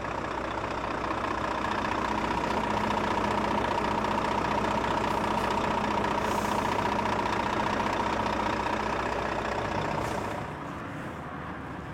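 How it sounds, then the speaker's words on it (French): A heavy truck tractor idles steadily while being positioned to couple a semi-trailer, a loud continuous diesel rumble with a faint knocking texture that drops slightly in level near the end; no talking. "je vais positionner mon tracteur dans l'axe de la SMI pour effectuer l'attelage"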